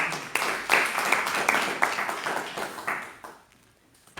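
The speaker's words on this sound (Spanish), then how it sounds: "nos gusta decirte que este aplauso es para ti." A church congregation claps together in warm, sustained applause at the end of a prayer, moderately loud and close, then fading out to near silence over the final second.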